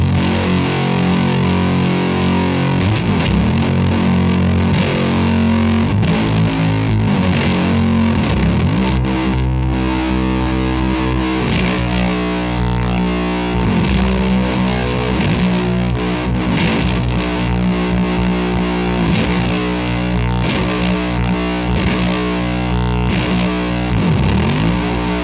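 An electric guitar through a Fuzzlord FU-2 fuzz pedal plays loud, thick distorted chords and riffs continuously, dense and saturated throughout, mid-heavy with treble and bass dialed down.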